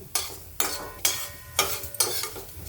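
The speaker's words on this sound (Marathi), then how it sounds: "असे भाजून घ्यायचे तुपामध्ये" Rice being roasted and stirred in ghee in a pan, heard as four or five loud, close scraping strokes with a soft sizzle between them and no voices.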